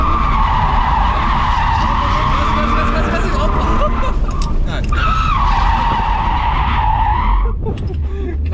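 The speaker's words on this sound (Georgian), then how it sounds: "გაზ ჩააჭირე და დრიფში დაიჭირე მანქანა" Car tires squeal loudly and continuously while a car drifts around a circle on a track. A sustained, tonal screech runs almost the whole time under engine roar, and voices talk over it.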